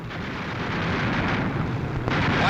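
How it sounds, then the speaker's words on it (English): An explosion from 1943 wartime air combat sounds as a sustained, dense, rumbling roar, broadband and steady throughout, with a sharp crack near the end, distant and muffled like old film sound. "Watch this explosion."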